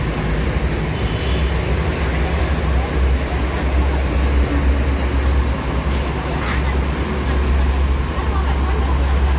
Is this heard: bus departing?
yes